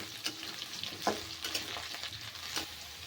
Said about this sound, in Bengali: এখন আমি দিয়ে দেব আদা কুচানো ভালো করে একটু কষিয়ে নিতে হবে